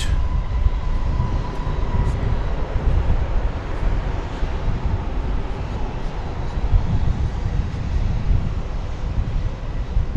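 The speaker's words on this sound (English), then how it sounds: "Arriving from Buenos Aires is Flight 996, American Airlines. This is a 7878." An American Airlines Boeing 787-8 arrives at DFW Airport after a long flight from Buenos Aires, heard as a steady, loud broadband jet roar with a low rumble that holds throughout.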